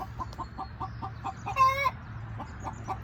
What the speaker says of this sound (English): That's the laying of the egg sound. And I think Chloe just laid an egg.